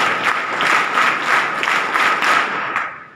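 Audience applause at an Indian Constitution Day school programme: a dense, steady wash of many hands clapping, loud and close, swelling in waves for about three seconds before tapering off at the end.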